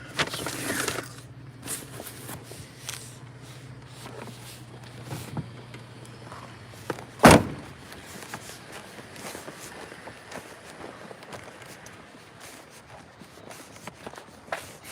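A house's front door shuts once with a single sharp, loud thud midway through, surrounded by faint shuffling footsteps and low background rustle.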